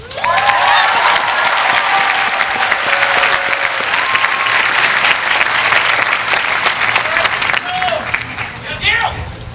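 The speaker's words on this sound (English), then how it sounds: "we thank you and applaud you" A graduation audience at a college commencement breaks into loud, sustained applause, dense clapping with some cheering and crowd murmur, holding steady before tapering slightly at the close as a voice returns.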